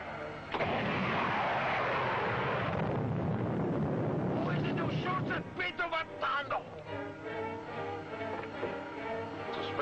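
A missile launch sound effect from a 1954 space-ranger serial: a loud, rushing roar for a few seconds, then fading under voices talking.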